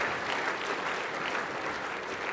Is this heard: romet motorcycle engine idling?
no